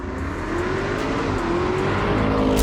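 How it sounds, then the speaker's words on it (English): A Porsche Cayenne Turbo GT SUV accelerating through a bend at about 130 km/h, its engine note climbing steadily under loud wind and road roar, heard from inside the cabin. "130 kilometers per hour and it's accelerating through that bend"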